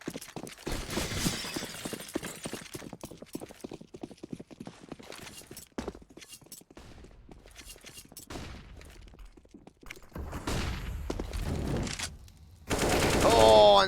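Rapid bursts of XM1014 shotgun fire and other weapon shots in a Counter-Strike match on the Train map, with crackling impacts and clattering footsteps, busy and fairly close.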